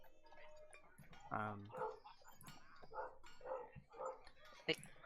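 A dog barks a few times, faint and in the distance, under a conversation between several people.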